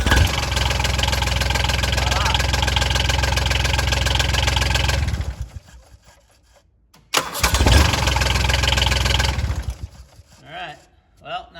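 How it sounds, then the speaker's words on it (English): A John Deere Gator engine cranks and catches after a starter repair, running loudly at idle for about five seconds, cutting out, then starting again and running before dropping away, close by with no speech. "Let's see if it's gonna start."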